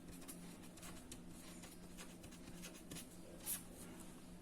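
Quiet scratching of writing on a board during a maths lesson, soft intermittent strokes over a low steady hum, faint and close.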